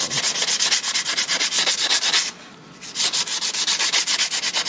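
Steady back-and-forth rasping of 80 grit sandpaper scrubbing build-up off a Renault Twingo front brake disc, close and loud in rhythmic strokes, with a brief pause near the middle before the sanding resumes.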